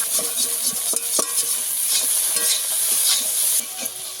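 Okra fries in a hot pan while a spatula stirs and scrapes it, giving a dense, steady sizzle broken by irregular scraping strokes, close and fairly loud, with no voices.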